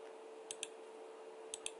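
Two quick pairs of computer mouse clicks, faint and crisp over a quiet background hum.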